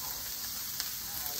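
Carrot sautéing in a hot pan for cauliflower fried rice, a steady close sizzle with faint crackles throughout the brief moment.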